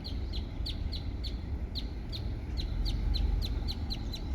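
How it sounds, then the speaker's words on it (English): Birds calling outdoors beside a country road near a house, a steady run of short, sharp chirps repeating about every half second over constant low wind or traffic rumble. "Birds are going."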